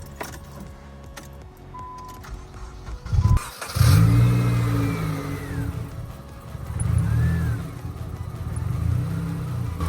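A Nissan SR20 engine in an Infiniti G20 starts with a jolt after a jump start, idles, then revs up in a couple of surges before settling back, heard up close.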